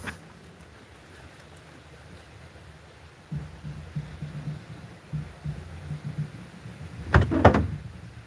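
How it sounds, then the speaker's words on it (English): A door being opened inside a camper van, quiet room tone first, then a low rumble of movement and a sharp, loud clatter of the latch and door near the end, close by. "I got to go open this door"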